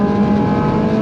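Ferrari 458 engine at full throttle, a loud, steady, sustained high-revving howl held for a brief moment, with no talking.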